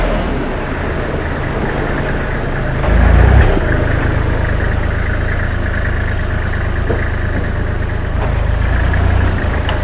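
Kubota L3408DT tractor with front dozer blade runs at a steady diesel idle close by, its low engine drone continuous throughout, with a brief louder surge as the rear hitch is worked.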